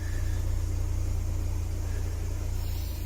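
A Citroen BX engine idles with the heater running, a steady low rumble and drone filling the cabin close up, unbroken and without talk.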